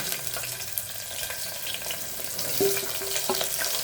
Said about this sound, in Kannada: ಆನಿಯನ್ ಸ್ವಲ್ಪ ಫ್ರೈ ಮಾಡ್ಕೊಂಬಿಡೋಣ